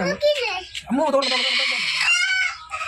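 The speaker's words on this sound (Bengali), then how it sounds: "ডিম পাড়ার সময় মুরগি দাঁড়া গেলে মুরগি এভাবে চিৎকার করে" A laying hen cackles loudly on a farm, a run of sharp repeated squawks close by, with brief gaps between the calls.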